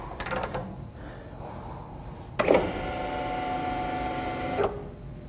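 A Schlebach RBM 25.38 roof panel curving machine, set with too much pressure so it barely runs, starts with a sharp clunk and then whirs with a steady mechanical drone. It stops with a second clunk, with no talk over it.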